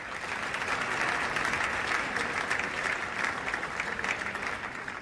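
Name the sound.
summit participants applauding Prabowo's speech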